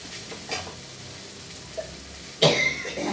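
A few short coughs, set off by frying spices for a curry, break through quiet kitchen sounds, two soft ones early and a louder, harsher burst near the end.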